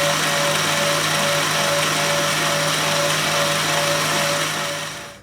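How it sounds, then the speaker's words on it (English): Electric mixer whisking egg whites with sugar to soft peaks for a Japanese cheesecake, a loud steady high-pitched motor whir that runs continuously and then winds down at the end, with no one talking. "gradually add in the sugar and whisk that for a couple of minutes until you've got soft peaks"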